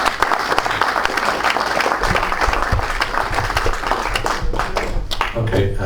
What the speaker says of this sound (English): He needs an applause